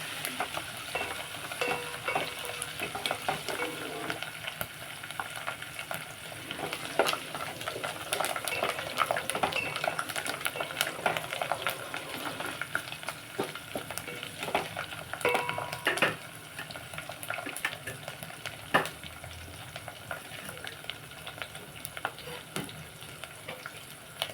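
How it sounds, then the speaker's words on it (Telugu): Tempering spices fry and crackle in hot oil in a pan while being stirred steadily, a continuous close sizzle with scraping strokes and occasional clinks of the spoon against the pan. "పోపు బాగా వేగిన తర్వాత అప్పుడు వేసేసుకోండి"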